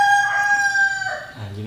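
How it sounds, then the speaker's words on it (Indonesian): A single chicken calls loudly and close by, a drawn-out squawking cluck lasting just over a second. "ada suara ayam"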